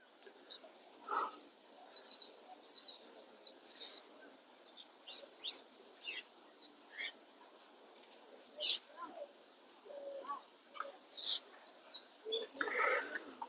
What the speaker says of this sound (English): ওই দেখো পাখি পাখি আওয়াজ শুরু হয়েছে